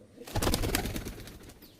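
Kaldum and laldum pigeons in Noor Gazi's pigeon loft give a soft, close cooing murmur with some rustling, lasting just over a second with no voices.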